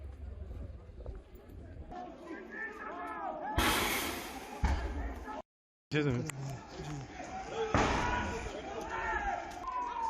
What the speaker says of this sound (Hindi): बीच बीच में धमाके की आवाज भी आती रही